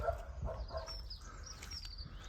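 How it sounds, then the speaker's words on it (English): Dog barking in a workshop yard, a few short barks and yips spaced irregularly, moderately near and fairly faint against background hum. "Shush, dog."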